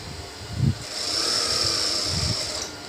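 A sewing machine runs a double line of stitching across folded baby trouser fabric, giving a steady, close mechanical whir with a couple of soft thumps near the start, with no talking.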